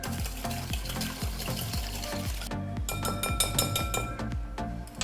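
Strawberry pancake batter, eggless and made with milk, being whisked in a bowl: a fast, steady run of rhythmic wet strokes with light clinks against the bowl, close and continuous, with no talking.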